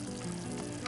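Rice toasting in a paella pan over an open fire, with lobster among the ingredients, sizzles in a steady, close, continuous crackle that fills the whole moment with no talking.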